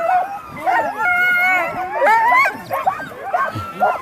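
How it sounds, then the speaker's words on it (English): Lance Mackey's sprint sled dogs bark, yip, whine and howl excitedly at the start of a sprint race, a loud close chorus of overlapping cries with people talking underneath. "So here they are, the new Lance Mackey sprint dogs."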